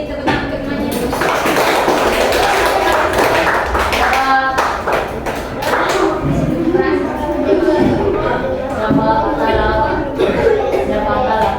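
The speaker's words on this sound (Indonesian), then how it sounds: "Beri tepuk tangan untuk temannya." A classroom of young pupils applauds a classmate with dense, sustained clapping, mixed with chatter and children's voices throughout.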